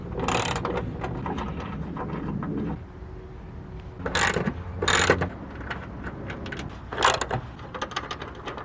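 A ratchet removing hex bolts from the rocker panel of a Toyota Tacoma, close rapid clicking in bursts with pauses and a few sharper knocks between.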